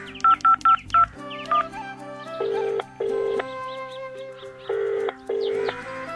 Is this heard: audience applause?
no